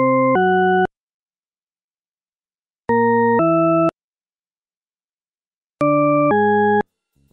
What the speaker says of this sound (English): listen to these three tones and decide in your head whether they're ascending or descending